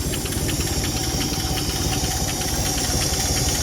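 A 1958 Chevy Delray engine idles close and loud, with a rough, knocking, pulsing rumble holding steady without a break.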